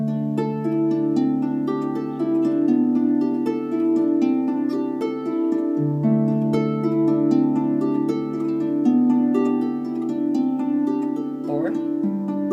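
Solo harp plays a steady, flowing pattern of plucked notes, with the bass line stepping downward beneath ringing arpeggios, close and clear.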